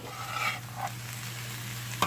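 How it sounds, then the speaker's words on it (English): Seasoned smothered potatoes being stirred and mixed in a pan, a short scraping, stirring sound with a faint sizzle, with one sharper clink of a utensil near the end, no talking. "So I'm just going to mix it up in here"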